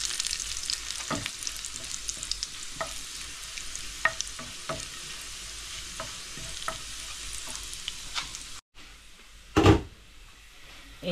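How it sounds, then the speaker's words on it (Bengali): Garlic and dried chilies fry toward golden brown in a pan for a taro-leaf sour dish, a continuous close sizzle broken by repeated sharp scrapes and taps of stirring, then a brief pause and a louder clatter near the end. "ভালোভাবে গোল্ডেন ব্রাউন করে নেব রসুনটাকে, মরিচটাও সঙ্গে হয়ে যাবে।"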